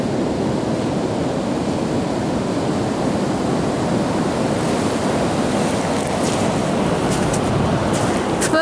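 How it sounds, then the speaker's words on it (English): Large ocean waves crash onto a beach in a steady, loud roar of surf that never lets up, mixed with wind buffeting the microphone. "The waves out there are massive."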